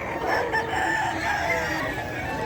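Chickens and roosters fill a busy poultry pet market in Bocaue, with overlapping crowing and clucking that runs steadily through the whole stretch, layered with crowd noise.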